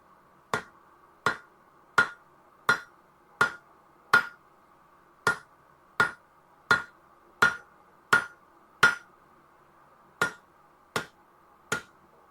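Scale knocked off hot forged steel tongs at a forge: a steady series of about sixteen sharp, ringing metallic strikes, evenly spaced roughly every half second to three-quarters of a second, close and alone with no talk.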